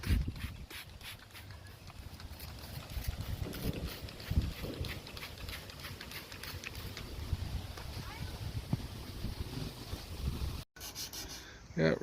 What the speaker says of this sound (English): Yeah, no one likes sanding, kid.